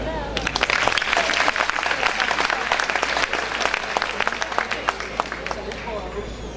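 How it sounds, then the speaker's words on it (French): A packed audience at a slam poetry show at the Grand Rex claps for itself, a dense, steady wash of loud applause with crowd noise throughout and a voice heard over it. "vous applaudir vous-même"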